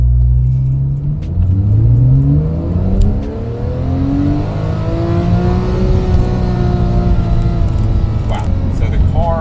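A Porsche 911 with a COBB tune revs hard in first gear up to 7,200 RPM under paddle-shift automatic, the engine note climbing steadily and loud and close throughout the run.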